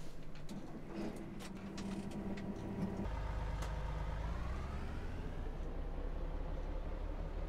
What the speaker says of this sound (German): Motorklang hat er. Ja, hört sich an wie ein LKW.